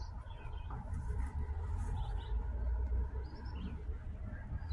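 Garden birds in the morning give faint, scattered chirps over a steady low outdoor rumble, without a clear song line.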